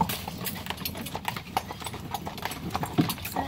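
Horses pulling a buggy on a Lancaster ride clip-clop in a steady rhythm of hoof strikes, fairly near, over the constant rumble of wheels and road noise, with no talk.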